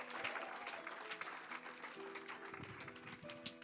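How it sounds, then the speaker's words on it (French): A church congregation claps during a sermon, soft and distant, the scattered applause mixed with sustained musical tones underneath. "Applaudissons l'Éternel un peu."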